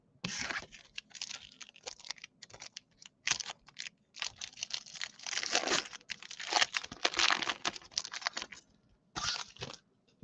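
Baseball card pack wrappers are torn open and crinkled close by in a run of crisp, bursty crackling rustles separated by short quiet gaps, with no voices heard.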